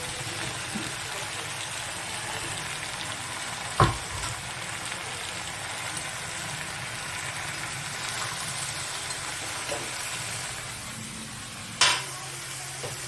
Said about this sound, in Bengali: এবার আমি এই পোস্তটার মধ্যে ঝিঙেগুলো দিয়ে দেবো